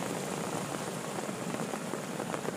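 Steady rain falls over a village, a dense, continuous hiss of drops spattering on surfaces that stays even and fairly loud throughout, with no voices.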